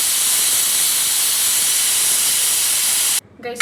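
A pressure cooker whistle vents steam while vegetable pulao cooks, giving a loud, continuous close hiss that fills the scene and cuts off abruptly near the end.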